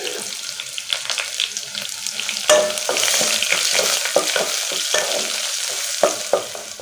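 Sliced onions and dried chillies frying in a pan, an ongoing sizzle broken by repeated scraping stirs of a spoon, close and fairly loud with no talking.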